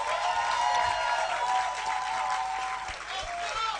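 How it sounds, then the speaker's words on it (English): A big round of applause from the audience at a fireside chat with John Boyega, dense continuous clapping at steady volume with a voice faintly audible beneath it. "Give him a big round of applause"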